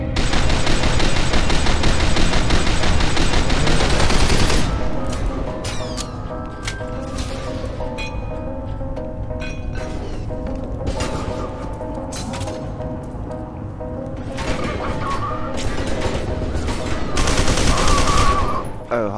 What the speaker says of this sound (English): Why am I throwing shock grenades?